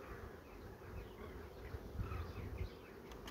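Honeybees working a frame of honey set out in the hive make a faint, steady, close buzzing hum with no voices.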